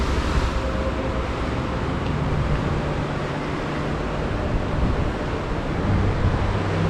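Rain-swollen river water rushing down from the mountains near Kutaisi, Georgia, a steady, dense broadband roar with some wind buffeting, continuous and fairly loud throughout with no talk.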